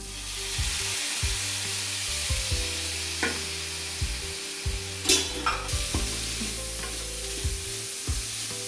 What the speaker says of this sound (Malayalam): ഇതിലേക്ക് നമ്മൾ കട്ട് ചെയ്ത് വെച്ചിരിക്കുന്ന തക്കാളി ആഡ് ചെയ്ത് കൊടുക്കാം